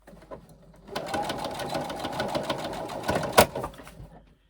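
A sewing machine runs a quarter-inch pocket seam in one short burst of rapid, close stitching, ending with a sharp click.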